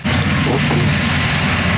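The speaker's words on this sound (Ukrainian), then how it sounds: "Цей новенький трактор розсікає на одному із полів Хмельниччини." A new 400-horsepower tractor works a field in Ukraine's Khmelnytskyi region, its engine a loud, steady, close rumble throughout with no pauses.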